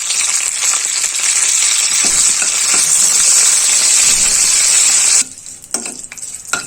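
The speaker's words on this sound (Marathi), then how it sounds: "कढीपत्ता तेलामध्ये व्यवस्थित परतून झाल्यानंतर" Curry leaves sizzle loudly in hot oil in a kadai, a bright steady crackle that stops abruptly near the end, leaving a few faint clinks and scrapes.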